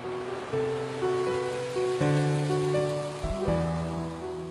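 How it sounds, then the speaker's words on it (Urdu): Heavy rain pours down in a dense, continuous wash of noise that stays loud and steady throughout, with no voices over it. "بڑے زور کی بارش برسنے لگی"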